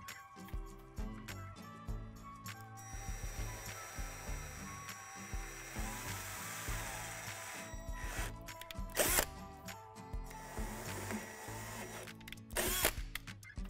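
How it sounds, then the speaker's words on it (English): A power drill starts and stops repeatedly, boring holes through plastic dimples on a playhouse kit sink pedestal with whining and grinding bursts, punctuated by clicks and handling noises nearby. "Now we're going to drill out 2 holes through the dimples on the edge of the sink pedestal."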